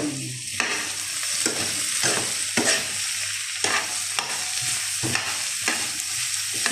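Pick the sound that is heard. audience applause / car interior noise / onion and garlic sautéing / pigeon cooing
onion and garlic sautéing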